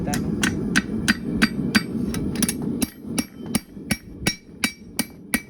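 A hammer strikes a horseshoe being shaped from a steel rod, giving about a dozen sharp metallic blows in a steady rhythm. The first few sit over a low rumbling background, and the later ones ring out more cleanly.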